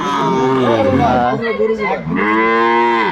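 Cows moo loudly and repeatedly at a cattle market near Dhaka where Friesian and cross-breed bull calves are sold, their long, drawn-out calls close by with faint crowd chatter beneath.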